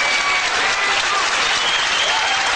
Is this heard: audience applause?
yes